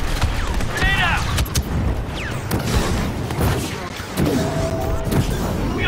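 A grenade goes off in a Star Wars Battlefront match as a few booming blasts and crashes amid ongoing gunfire and battle noise, while a player talks over much of it.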